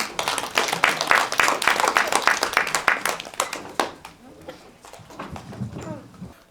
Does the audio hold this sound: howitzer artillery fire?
no